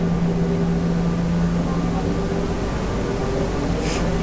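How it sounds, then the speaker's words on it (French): Boeing 737-800 jet engines in Microsoft Flight Simulator X on a Nice to Barcelona flight give a steady, even drone with a low tonal hum. A faint higher whine rises near the end. "moi j'aime bien le bruit des moteurs des avions"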